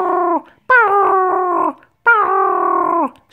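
A dog howls three times in a row, drawn-out wavering tones with short gaps between, loud and close with no other sound.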